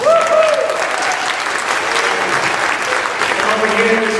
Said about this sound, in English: Let's hear it for Bob